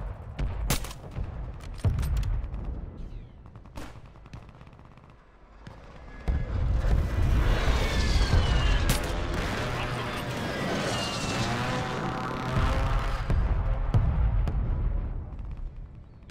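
A called-in artillery strike in Call of Duty Warzone Resurgence lands as a long, rolling barrage of heavy booms and crackling blasts, loud and sustained, with a game radio voice heard briefly near the start.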